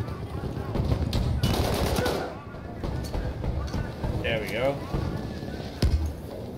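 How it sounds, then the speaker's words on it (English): An automatic shotgun firing in Battlefield 1, a rapid burst of loud booming shots followed by scattered battle noise and a few more distant blasts, with a voice talking over it. "This is an automatic shotgun."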